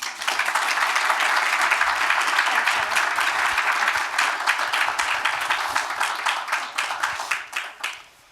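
Sustained audience applause welcoming author Stacy Schiff to a book talk on Samuel Adams, dense steady clapping from a full room that gradually thins and fades out over about eight seconds.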